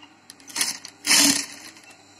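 A sewing machine stitches a lungi at a tailoring class in two short whirring bursts, the second louder and longer. The sound is close and clear, with no talking over it.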